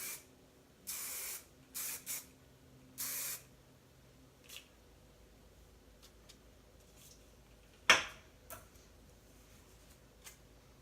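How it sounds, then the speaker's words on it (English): Hairspray is sprayed onto curled hair in short hissing bursts: three or four quick spritzes close by, followed by quieter handling sounds and a single sharp click. "Take some hairspray."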